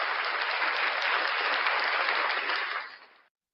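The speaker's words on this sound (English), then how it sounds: "Round of applause for the one and only Frauditor Mania" Loud, dense audience applause from a live show crowd, steady and sustained for about three seconds before tapering off and stopping abruptly.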